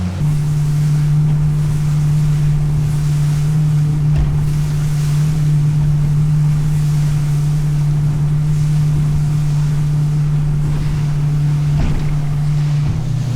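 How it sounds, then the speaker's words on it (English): A motorboat runs at full throttle, producing a loud, continuous engine drone mixed with rushing wind and water spray that holds steady throughout with no voices. "We're gonna gun it and then get to the spot."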